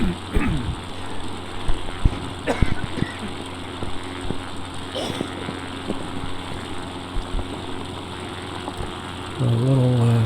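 Small airplane engine run up to full takeoff power on a flight from South Shore Tahoe toward Kirkwood, a steady loud droning roar with a faint voice under it and the pitch rising near the end.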